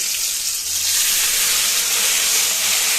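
A spice paste of cumin, ginger, garlic, a little onion and raisin is dropped into a hot pan for a roast dish, giving a loud, steady hiss of frying that swells slightly after the first second.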